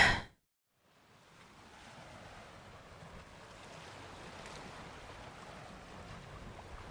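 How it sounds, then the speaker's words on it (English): Wind and water wash steadily around the microphone after a brief splash and a moment of silence, like being out on open water among boats. "Why am I surrounded by boats?"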